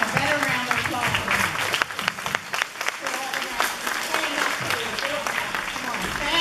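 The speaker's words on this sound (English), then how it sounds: "a better round of applause." An audience applauds at a community event about homelessness, a dense steady clapping that holds throughout, with a speaker's voice rising over it at moments.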